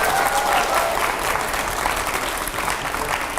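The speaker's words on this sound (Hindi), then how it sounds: "मैं चाहूंगा पहले तो जोरदार तालियां होनी चाहिए।" A studio audience at a televised interview with Anupam Kher gives loud, sustained applause, a thick wash of many hands clapping throughout.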